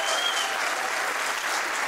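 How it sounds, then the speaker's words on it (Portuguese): Audience couples at a live stand-up comedy show clapping, some of them reluctantly, a dense steady round of applause filling the room with no speech over it. "casais em que alguns estão a bater palmas sem vontade nenhuma"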